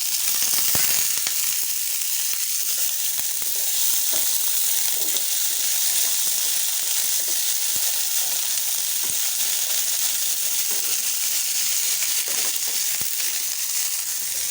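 Potato and brinjal fry in a pan with onion, garlic, green chili and dried chili, making a loud, steady close sizzle with occasional stirring clicks throughout.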